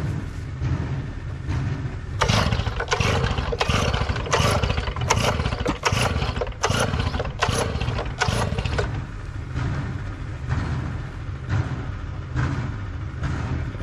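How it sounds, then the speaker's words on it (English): A Stihl TS 700 two-stroke gas cut-off saw being pulled to start, a run of about a dozen sharp rhythmic starter-pull bursts over a low rumble, then quieter, irregular pulls. "now we're going to cut it with this TS700"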